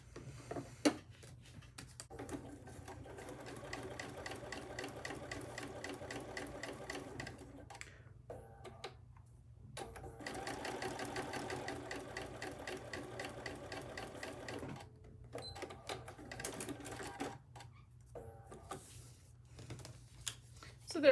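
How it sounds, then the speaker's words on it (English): Sewing machine stitching fabric onto a foundation paper-pieced kite block, quiet rapid mechanical chatter in several runs separated by short pauses, with faint talking in the background. "We have stitched right on that line, and I have the fabric down there too."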